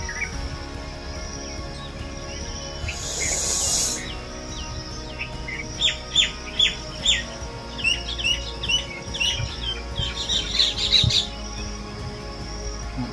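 Sparrows in a tree overhead let out a scattered series of short, high chirps, several in quick succession, over a steady low hum, with a brief burst of noise early on.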